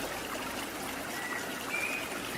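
Fairly fast water rushes steadily over the rocks of a river, making a continuous close hiss and burble with no pauses and no voices.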